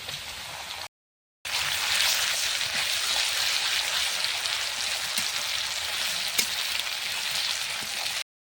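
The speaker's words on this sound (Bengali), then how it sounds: "পেঁয়াজটা আমার ভাজা ভাজা হয়ে চলে আসছে" Steady, dense sizzling of onions frying in hot oil, continuous and fairly close, with a brief cut to silence near the start.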